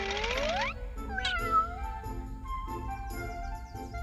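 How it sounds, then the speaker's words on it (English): A cat meows with a long, rising and falling call, near and fairly loud, followed by softer drawn-out mewing tones over a low background hum. "A cat."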